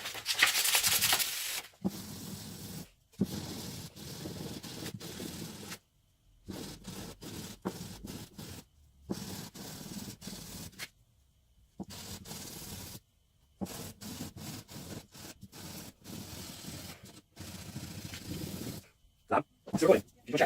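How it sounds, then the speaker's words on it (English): A paper ball is rubbed with fine-grade sandpaper, giving a soft, close, intermittent scratchy sanding in repeated bursts separated by brief pauses. "move down to a finer grade of sandpaper"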